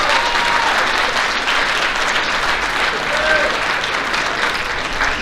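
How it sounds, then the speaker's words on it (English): Sustained, loud crowd applause at a high school athletic banquet, a dense even roar of clapping from a full room that runs unbroken, with faint voices and a few whistles or shouts mixed in. "Let's give a round of applause for that."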